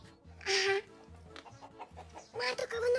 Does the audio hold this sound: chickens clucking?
yes